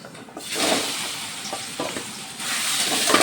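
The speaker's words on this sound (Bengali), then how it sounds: "এখন পুরগুলোকে আমি একটু তেলের মধ্যে ভেজে নেব" Pumpkin leaf fritter filling with fennel and chilli frying in oil, a loud, dense sizzle that swells and eases with stirring, close and steady with no voices.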